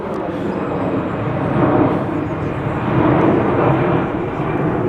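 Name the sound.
aircraft flying over near Manchester Airport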